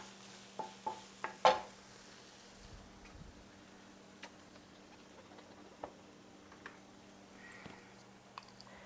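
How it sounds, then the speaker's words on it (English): Minced garlic and ginger are stirred in a pan with a spoon, producing a few sharp clinks at the start followed by sparse light taps over a faint, quiet sizzle. "We're going to stir it around a little bit till it gets a little bit fragrant."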